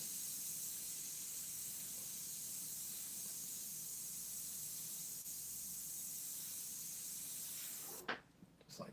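An airbrush sprays India ink onto Bristol board with a steady, close, continuous airy hiss lasting about eight seconds before cutting off abruptly.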